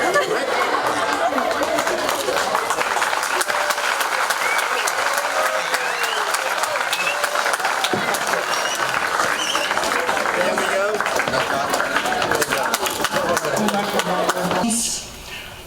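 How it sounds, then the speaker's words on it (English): Audience applause and crowd chatter at a World Food Day celebration in Savusavu, Fiji, a sustained loud wash of clapping mixed with murmuring voices that drops off abruptly near the end. "Round of applause, ladies and gentlemen."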